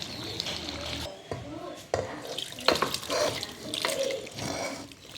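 Hot water poured into rice and gravy for beef biryani, a steady splashing pour with brief breaks, close by and fairly loud.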